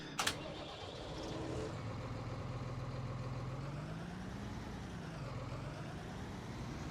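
A Claas tractor engine in Farming Simulator 19 starts with a short sharp click, then settles into a steady low rumble that rises and dips in pitch as it revs, with no voices over it.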